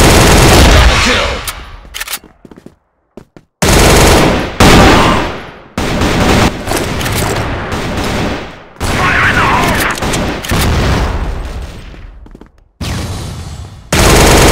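Scorpion EVO 3 gunfire in the video game Cross Fire comes as loud, dense automatic bursts broken by brief silences, with game voice callouts now and then.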